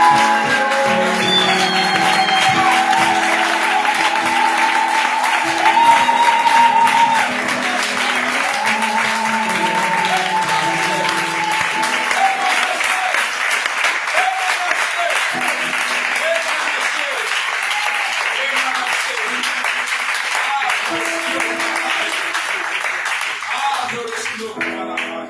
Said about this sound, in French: Maintenant, est-ce qu'on peut acclamer pour Jésus?